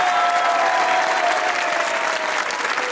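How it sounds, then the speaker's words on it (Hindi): A studio audience applauding on a talk show, dense, even clapping held steady and close for the whole stretch, with a faint tone beneath. "अगर आप लोग भी दूसरों को खुश देखना चाहते हैं तो तालियां बजाइए"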